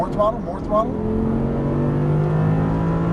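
An Audi R8 V10 engine drones steadily on a race track, holding a smooth, loud note after a brief burst of speech at the start.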